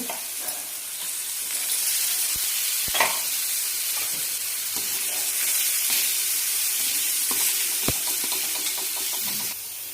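Soaked chana dal with turmeric sizzles steadily in a hot pan as it is stirred, with a few sharp spoon clicks against the pan and no voices.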